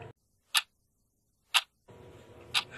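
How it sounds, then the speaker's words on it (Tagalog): Clock ticking in a quiet room, three sharp, evenly spaced ticks about one second apart, close and distinct against near silence, with faint background noise toward the end. "Ang orasan ay may tunog na tik-tak, tik-tak."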